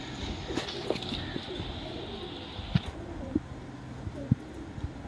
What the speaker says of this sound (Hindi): इन्होंने पेटियों में रखे हुए कबूतर